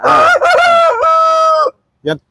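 An Aseel rooster crows loudly and close by in one long drawn-out call, followed by a short clucking note.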